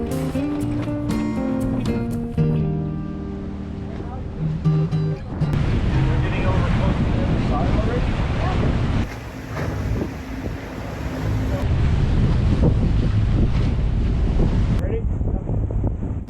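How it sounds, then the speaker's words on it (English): A sailboat tacks through wind and waves, with heavy microphone wind buffeting and rushing water, and a person speaking over it throughout. "Tacking back and forth across these pristine waters is fantastic sailing."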